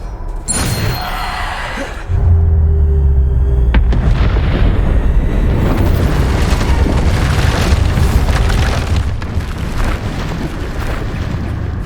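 Spell combat explosions from Hogwarts Legacy: a sharp burst, then a heavy sustained roar of repeated booms and blasts rumbling loudly throughout, with layered impacts and crackling debris.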